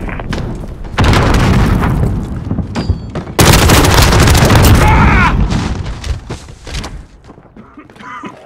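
Allied cruise missile strike in a shooter game, heavy booming impacts with rumbling blasts and scattered gunfire, two loud surges of explosions rolling in close and decaying, a radio voice speaking between them.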